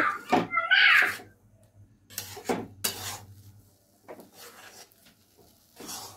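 A carrot sweet mixture is stirred and scraped into a dough in a pan, giving intermittent rasping and scraping strokes of a utensil against metal, close and fairly loud, with pauses between bursts.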